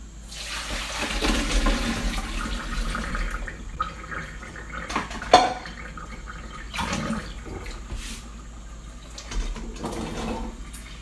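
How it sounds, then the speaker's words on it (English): Boiled potatoes and their cooking water pour out through a colander into a sink, a splashing, gushing rush of water with a few louder clatters and surges over about eleven seconds, close by with no talking. "right now we're just going to drain these potatoes through my colander and put them right back into the pan"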